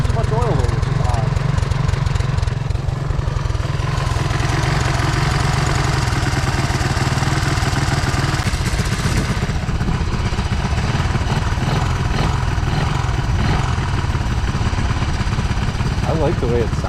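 Honda 185S three-wheeler engine idling with a steady, loud, low chugging pulse, close up and continuous, with someone talking over it.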